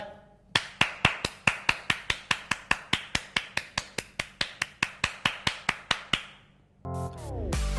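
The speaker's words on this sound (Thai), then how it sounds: "ปรบมือสิครับ รออะไร" Hand clapping: a steady, even run of about two dozen crisp claps, close and fairly loud, ending with a short burst of other sound.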